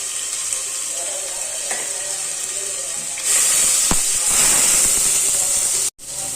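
Ginger garlic paste sizzling with whole spices in hot oil in a pan for a bhindi gosht curry. A loud, steady hiss grows stronger partway through, then cuts out briefly just before the end.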